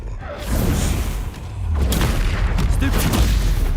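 A Confringo spell explodes in a Harry Potter video game, making a loud, rolling boom with low rumbling blasts that build over a few seconds, while a voice talks at the same time.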